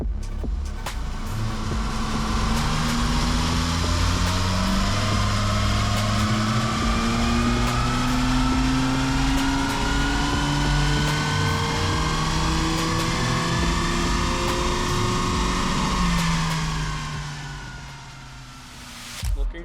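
A race car engine runs on a dyno with a loud, sustained roar under load that winds up in pitch over several seconds before cutting back, followed by a short blip at the end.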